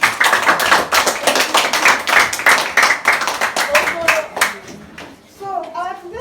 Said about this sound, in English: Clap hand for yourself.